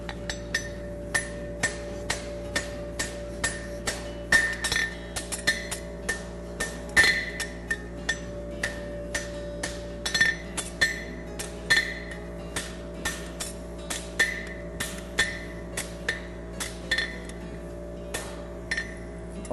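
Hammer blows ring out steadily on a steel bar over an anvil while a Patten bar horseshoe is bent, bright metallic clanks repeating about once per second against a constant low workshop hum, close and clear.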